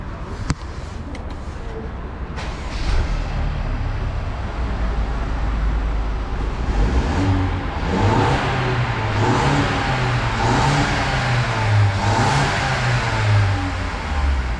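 A BMW E coupe fitted with a new downpipe revs repeatedly, its engine note rising and falling in close, steady pulls with no talk over it.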